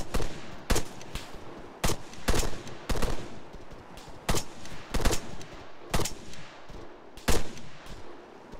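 Gunfire in the ARMA 3 military shooter game, a string of sharp, loud single shots and short bursts cracking at irregular intervals, close by with echoing tails.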